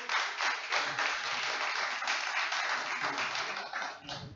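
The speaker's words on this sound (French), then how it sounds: "Je vous demande de l'applaudir bien fort, s'il vous plaît." An audience applauds loudly for a famous former OGC Nice footballer at a public event, a dense steady wave of many hands clapping that holds for several seconds before starting to taper.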